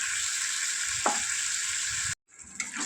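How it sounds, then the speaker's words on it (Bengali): Dried chilli paste frying in oil for aloo dum, a bright continuous sizzle with a brief stirring scrape, then a sudden cut to near silence before the hiss resumes. "এরপর আস্তে আস্তে মশলাটাকে কষিয়ে নিতে হবে তেল ছাড়া পর্যন্ত।"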